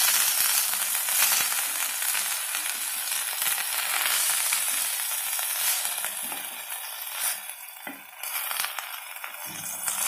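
Onion and coriander leaves sautéing in a pan for coriander chutney: a dense, continuous crackling sizzle with occasional stirring scrapes, close and steady throughout, no talking.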